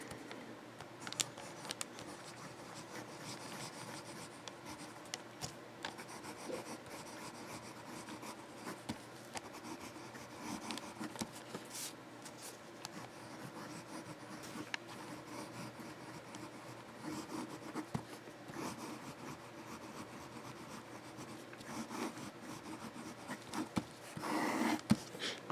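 A Noodler's fountain pen with a music nib scratches steadily across paper for a long stretch, faint and close, with a short louder clatter near the end.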